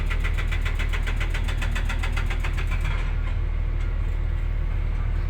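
A Komatsu PC200-5 excavator engine runs steadily nearby with a loud, low, continuous diesel rumble. A rapid rhythmic knocking pulse rides on top at first, then settles into an even drone.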